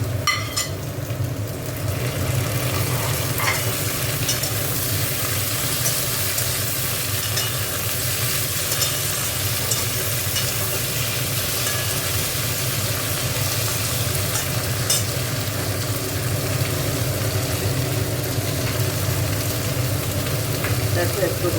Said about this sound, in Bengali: আলু পেঁয়াজ ভাজা হয়ে গেছে, এবার টমেটোটা দিয়ে দিচ্ছি।